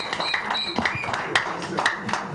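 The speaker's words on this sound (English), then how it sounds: "make una clap for Prof now" Audience in a broadcast debate studio clapping for a professor, scattered irregular claps of modest loudness mixed with voices.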